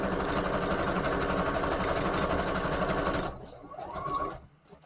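A sewing machine stitches with black thread during a paper craft project, running in a steady fast whir for about three seconds before slowing and stopping.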